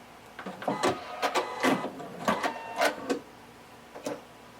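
A sewing machine runs in short bursts while backstitching a seam on a tank top, each stitch run a brief whirring buzz separated by pauses, close and moderately loud with no talking.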